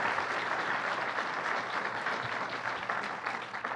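Audience applauding loudly at a transit hub completion announcement, a dense, steady wash of clapping that holds strong and slowly tapers slightly toward the end, with no voices over it.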